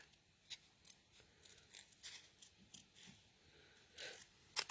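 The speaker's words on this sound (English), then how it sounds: "Snip it off." Scissors snip a small paper leaf shape during autumn-themed cardmaking, a series of quiet, crisp cuts spaced irregularly through a soft background hush, ending with a sharper final snip.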